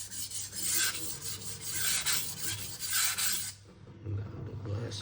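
A prep kitchen knife scrapes across a vitrified diamond sharpening stone in about four rhythmic rasping strokes, close and clear, ending in a softer, quieter stroke.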